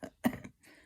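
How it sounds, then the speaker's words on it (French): A short wet cough, one sharp burst followed by a softer rasping tail and a faint breath. "aujourd'hui, je tousse beaucoup et très gras"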